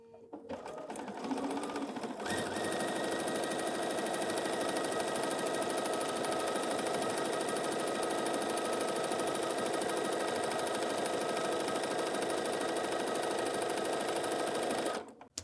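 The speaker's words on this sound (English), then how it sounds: "and then we'll go sew this at the machine" Sewing machine stitching a quilt block, starting with a brief rustle before a steady, fast motor whir and needle clatter runs continuously for over ten seconds, then stops abruptly.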